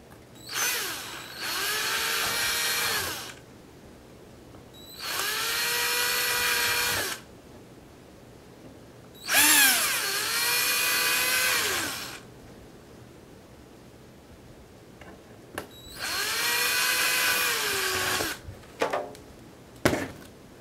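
Power drill fitted with a 1/16 drill bit bores mounting holes for a servo in a Hanger 9 46% model, four separate whining bursts of about two seconds each with short pauses between, fairly loud and close, no talking.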